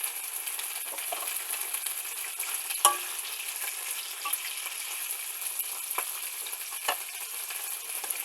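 Beans frying and sizzling in a pan as they are stirred, a steady crackle with a few soft utensil scrapes and taps, fairly quiet and with no one talking.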